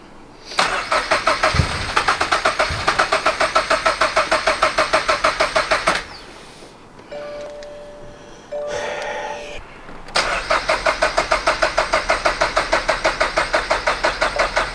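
A turbocharged Toyota GR86 engine cranking with a rapid rhythmic starter chatter after a bigger fuel injector install, cutting out into a rough uneven sputter, then cranking again with the same fast pulsing rhythm, close and loud.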